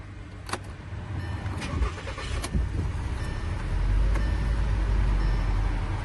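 A VW Jetta engine cranking and catching after an ignition switch replacement, with a brief key jingle and clicks before the motor settles into a steady close idle rumble.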